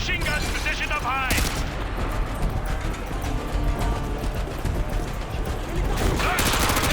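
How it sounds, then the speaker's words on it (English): Sustained gunfire fills a Call of Duty: Modern Warfare 2 campaign battle, with machine guns firing from rooftops amid a dense, loud, continuous wash of shots and combat noise throughout. "We've got a few close calls with RPGs and machine guns positioned up high."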